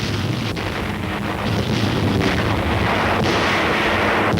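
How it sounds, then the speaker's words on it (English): Explosions rumble from an RAF Lancaster bombing raid on the industrial city of Pforzheim in Germany, a dense loud roar of blasts and burning with several sharper bursts over constant low rumbling. "Explosions and fires are sucking the oxygen from the air."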